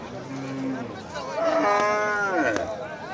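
Domestic cows at a cattle market give a long, drawn-out moo that rises and bends in pitch. Faint market chatter continues underneath.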